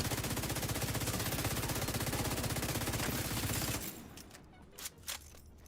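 A light machine gun fires in a video game as a loud, rapid, continuous burst lasting nearly four seconds, then cuts off abruptly, leaving a couple of sharp single reports in the quieter space that follows.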